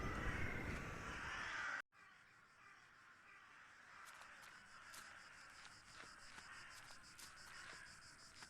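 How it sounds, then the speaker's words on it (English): Crows caw repeatedly at a distance over a steady outdoor hiss in the video game The Last Door, the calls spaced irregularly after a loud whooshing opening that cuts off abruptly. "Those are definitely birds."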